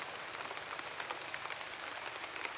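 Rain falls steadily outdoors, making a dense, even hiss with scattered drops pattering on a surface, fairly close and constant and without talk.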